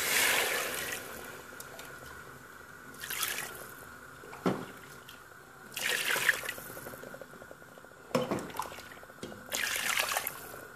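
Hot water poured into a pot while cooking chakhchoukha, several separate bursts of pouring and splashing with a faint simmering background between them.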